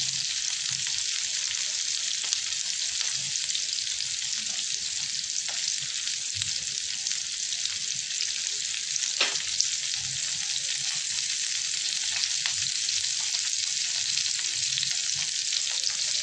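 Paneer cubes frying to golden in a pan give a steady, close hiss of sizzling oil that holds evenly throughout, with a few faint stirring touches and no voices.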